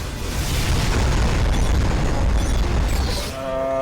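Incoming missiles explode against a ship in Rebel Galaxy, a continuous heavy rumble of overlapping blasts that holds loud and dense for several seconds before dipping briefly, with a ship computer voice faintly present.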